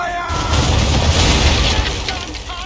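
Ship cannons roar in Assassin's Creed 3, a loud, deep, rumbling blast of booms that swells and lingers for a couple of seconds, heard alone without talk.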